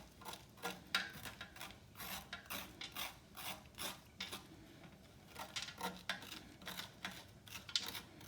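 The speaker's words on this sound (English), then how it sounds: "take a spoon and just scrape everything out of the center, the strings" A spoon scrapes the seeds and stringy strands out of the center of a halved spaghetti squash in a series of short, soft rasping strokes, near but quiet, with no talking.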